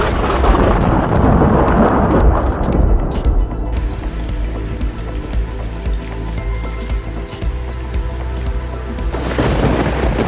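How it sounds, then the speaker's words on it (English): Deep, rolling thunder rumbles loud and long through a storm, blended with heavy rain pattering on surfaces. "Then, a deep, rolling thunder follows, shaking the earth and announcing nature's untamed power."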